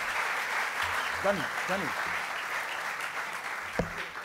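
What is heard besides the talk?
audience applause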